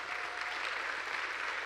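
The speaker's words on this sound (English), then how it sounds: "Let's give our second class scouts a round of applause." Steady, dense applause from an audience at a scout troop's Court of Honor, honoring second class scouts; many hands clap continuously at an even level for the whole stretch, with no voices standing out.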